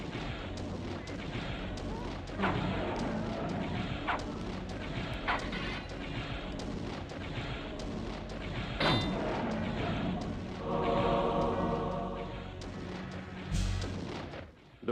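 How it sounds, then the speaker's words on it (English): Energy ball launchers fire repeatedly in Blood Omen: Legacy of Kain, dull booming thumps recurring through dense game noise, with a louder burst near the end. "the sounds of these energy ball launchers are kind of drowning it out"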